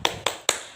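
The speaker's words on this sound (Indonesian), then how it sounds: "mari kita beri tepuk hebat untuk kita semua karena sudah mengikuti pembelajaran hari ini" Classroom cheer clap, three sharp, crisp claps in quick even rhythm, close and loud.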